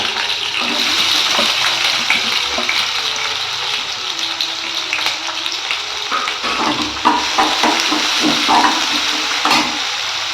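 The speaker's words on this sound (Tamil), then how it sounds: "ஆனியன் வந்து நல்லா வதங்கட்டுங்க" Large chopped onion with green chillies sautés in a pan for tapioca pearl upma, a loud, close, continuous sizzle with frequent stirring scrapes throughout.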